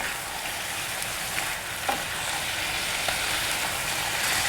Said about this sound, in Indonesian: Ini tumis dulu daging sapinya sampai berubah warna ya